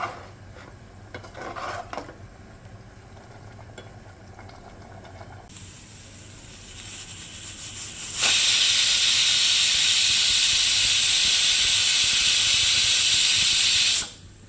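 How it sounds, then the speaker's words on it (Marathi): A pressure cooker on dal khichdi lets out a loud, sustained steam whistle for about six seconds, after quieter hissing and clatter, then cuts off abruptly. "झाकण लावून एक शिटी घेऊया."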